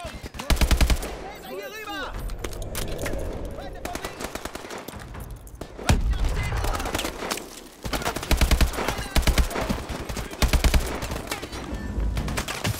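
Rapid machine-gun bursts and single gunshots in the shooter Call of Duty: Advanced Warfare, loud and close, arriving in repeated volleys over game music and effects with some speech mixed in.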